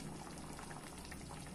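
Mango and jaggery syrup simmers on a gas flame, a steady soft bubbling and faint hiss that continues evenly throughout without any voices.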